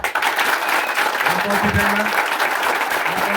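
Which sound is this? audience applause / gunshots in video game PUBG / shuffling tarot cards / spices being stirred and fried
audience applause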